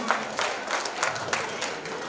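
Audience applause from a crowd at a live stage event, a steady wash of many hands clapping at moderate distance, continuous throughout with slight swells.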